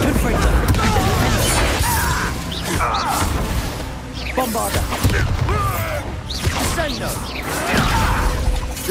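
Bombarda blasting spell cast in the Hogwarts Legacy video game inside a mine, with booms and crashing impacts amid whooshes and dense game effects, heard near and loud throughout, mixed with brief character voices.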